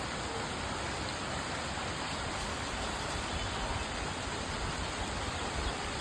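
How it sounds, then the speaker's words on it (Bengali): Baishakh rain falls in a steady, soft, even hiss, with a little wind blended in; no voices. "খুব সুন্দর বৃষ্টি হচ্ছে, একটু বাতাসও আছে"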